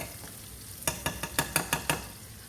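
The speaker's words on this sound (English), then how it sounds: "while you hear them back there frying" Faint, steady sizzling of shrimp in a hot pan, then a quick run of about eight sharp scraping clicks as it gets stirred. No voices.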